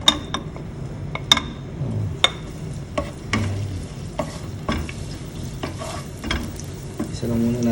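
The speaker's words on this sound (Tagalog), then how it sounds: "magigisa lang tayo ng sibuyas at bawang to" Onion and garlic sautéing in oil, a continuous sizzle broken by sharp clinks and scrapes of a spatula against the pan, close and steady throughout.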